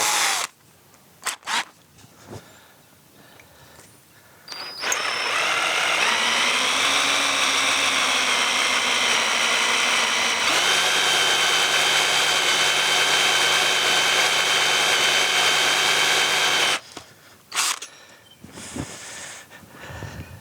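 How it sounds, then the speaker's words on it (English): A power drill drills out broken studs in the final drive casting of a David Brown 990 tractor, running loud and steady for about twelve seconds, its pitch dipping under load, with clunks and handling noises before and after. "So you can keep the drill away from the mic today"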